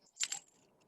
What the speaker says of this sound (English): I'm going to put some money up here